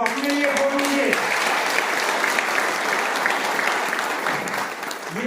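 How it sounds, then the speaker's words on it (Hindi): Seminar audience breaks into sustained applause, dense steady clapping from a large crowd filling the room at an even level, with a brief voice near the start and a slight fade toward the end. "जोरदार तालियां आप अपने लिए ठोक लीजिए"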